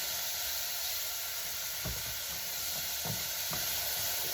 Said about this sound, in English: saute those vegetables up with a little bit of pepper